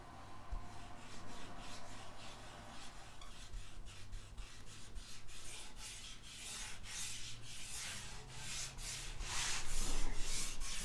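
An applicator rubs finish coating onto a guitar soundboard, giving soft, rhythmic scrubbing strokes about twice a second that grow louder toward the end.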